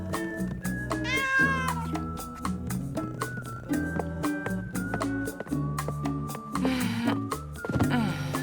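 Cartoon cat meowing repeatedly in a French animated series, several drawn-out, expressive meows and caterwaul-like cries over a light musical backing.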